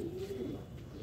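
Pigeons let out of their loft and feeding give a brief, soft, low coo close by against quiet background noise.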